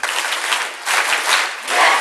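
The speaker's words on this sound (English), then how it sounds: "Give me 6 claps and a yes." A school audience at an elementary school graduation ceremony claps in unison, producing loud, close bursts of group clapping that swell and dip in a few rough waves.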